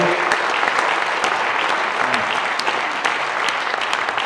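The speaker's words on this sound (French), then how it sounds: "je voudrais qu'on l'applaudisse très très fort" An audience at a French business event for small and medium companies in the Rhône applauds loudly, sustained dense clapping filling the whole stretch with a few sharper claps standing out.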